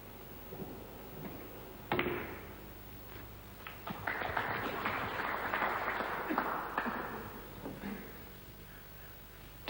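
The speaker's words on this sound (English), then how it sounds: "Deserved a ripple of applause" A brief, moderate ripple of applause from a snooker audience in the 1993 European Open quarter final between Jimmy White and John Higgins, swelling for a few seconds and then fading.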